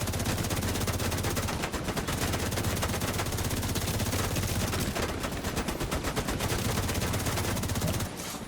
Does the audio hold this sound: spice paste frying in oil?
no